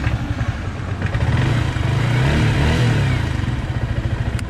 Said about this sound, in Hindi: फाइनली भाई का बाइक बाहर रेडी एंड फर्स्ट बूट